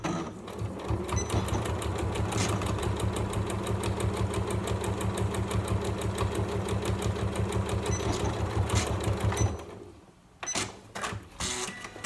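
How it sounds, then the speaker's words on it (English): Sewing machine stitching fabric for a storage caddy, a fast steady needle rattle running for about ten seconds, then a pause and short bursts while back tacking. "So I'm going to start sewing at the top, sew down to this blue line"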